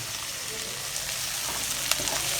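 Capsicum frying in a pan while making tomato upma, a steady close sizzle with faint stirring clicks and no talking.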